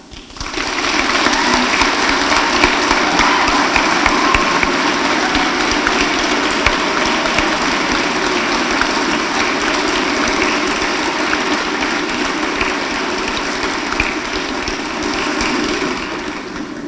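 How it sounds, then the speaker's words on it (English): A large crowd gives a long, loud, sustained round of applause for school staff at a high school graduation ceremony, a continuous wash of clapping lasting many seconds before tapering off. "giving a huge round of applause and great thanks to the Camrose Composite High School staff"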